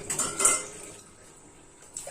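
Dishes, pots and metal utensils being washed, with a clattering clink of cutlery and pans at the start, then a quieter stretch of faint rinsing and handling before another brief clank.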